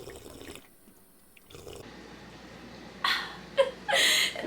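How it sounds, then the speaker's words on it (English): Water being drunk during a pause in speaking, with quiet room tone first and then a few close, splashy sips and gulps near the end. "Hang on, water break."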